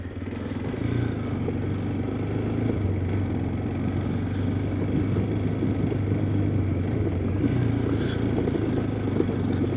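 A TVS Apache RTX 300 motorcycle rides off-road, its engine giving a steady, loud drone close by along with rumbling and clatter from the rough ground.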